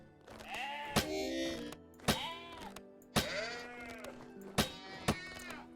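Goat in the Vintage Story video game bleating repeatedly, several wavering bleats in a row, close and fairly loud, with sharp thuds or clicks between them and no talk.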